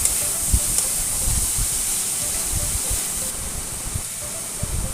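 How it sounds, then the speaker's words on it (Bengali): Boiled dried fish, onion and potato frying together in a pan, a constant close hiss of sizzling oil with repeated low thumps and scrapes of stirring, no talking. "সামান্য ভাজা ভাজা করে নেব।"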